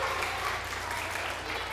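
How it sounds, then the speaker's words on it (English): Audience of children and adults clapping at a library science program, a continuous broad patter of applause throughout, with a voice faintly present underneath. "Give my friend a big"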